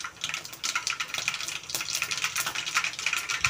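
Very hot cooking oil in a pan, seasoned with mustard seeds, cumin and dried red chilies, hisses and crackles steadily after water falls in. The sizzle is close and continuous, with no talking.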